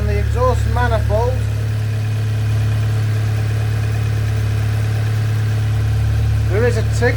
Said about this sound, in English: Okay, we've got a leak on the exhaust manifold.